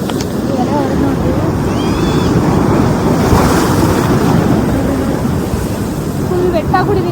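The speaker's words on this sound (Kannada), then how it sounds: "ಅಲೆಗಳು ಬಂದು ಎಲ್ಲ ಹೊರಗೆ ನೋಡಿ" Ocean waves break on a beach, a loud continuous roar of surf mixed with heavy wind buffeting the microphone, with voices faintly audible.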